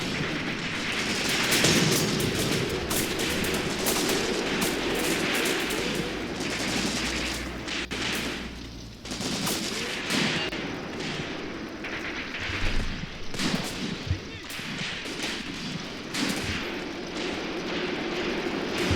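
PPSh submachine gun bursts rattle almost without pause in the Graviteam Tactics wargame, with rapid overlapping gunfire, distant booms and heavier shots layered into a loud, dense battle din.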